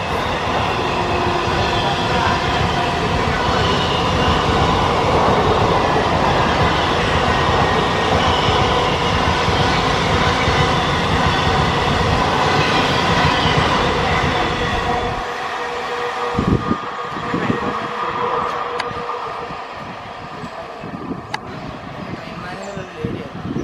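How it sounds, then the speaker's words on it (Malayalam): An Indian Railways Kannur–Alappuzha Express hauled by a WP4 locomotive passes close with a loud, sustained rumble and rolling roar, then gives way after about fifteen seconds to sparser wheel clatter and clunks as the last coaches go by. "അറക്കോണം ഷെട്ടിൻ്റെ ഒരു WP4 ആയിട്ട് കണ്ണൂർ ആലപ്പുഴ എക്സ്പ്രസ് സ്കിപ്പ് ചെയ്യാണ്."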